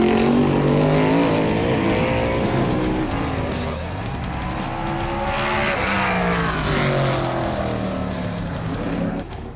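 A race car laps Ace Speedway, its engine loud and close for the whole stretch, pitch sweeping up and down as it accelerates and lifts through the corners, with faint tire scrub underneath.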